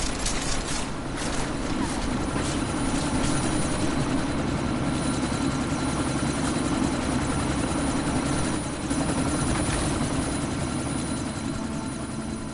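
A helicopter in a video game, a steady loud rotor thrum and engine drone with rattling mechanical texture that holds throughout without a break, and no talk.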